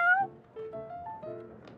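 A cat gives a short series of soft, close meows, several rising and falling calls within under two seconds, with no one talking.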